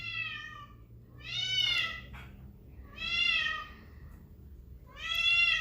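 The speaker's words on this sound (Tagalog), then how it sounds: "Ang ingay na naman talaga ng pusa namin, extra lagi sa vlog ko." A cat meows three times in drawn-out, insistent calls spaced a second or so apart, close and clear over a faint low background hum.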